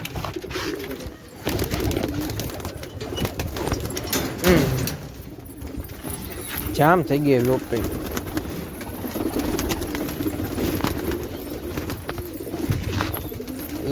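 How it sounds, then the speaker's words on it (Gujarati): Pigeons in a loft give low warbling coos, a couple of clear rolling calls midway, while someone talks over steady background noise and handling sounds nearby. "પેલા બધા ફટાફટી કબૂતર કાઢી બહાર નાખી."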